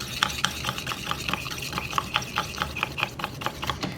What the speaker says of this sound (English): Now both of these containers, you need to stir well, but don't stir with the same stick